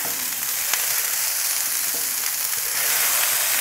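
A burger patty sizzles on a barbecue grill as it is pressed flat with a spatula, a steady, close frying hiss that holds throughout with faint scraping clicks.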